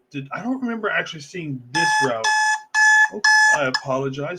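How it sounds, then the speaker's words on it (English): An alarm clock beeps in loud, repeated electronic bursts, sounding between and over someone talking nearby about football. "That is my alarm clock going"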